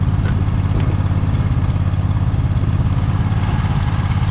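Poulan riding mower engine pushing a snow plow through ice, a loud, close, steady low throbbing drone running without a break.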